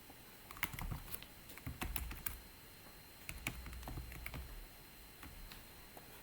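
Someone types a password on a computer keyboard, producing a quiet, close run of irregular clicking keystrokes in bursts with short pauses between them.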